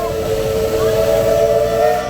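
A Type W class steam locomotive sounds its whistle, a loud, steady high-pitched tone held for about two seconds over a hissing background.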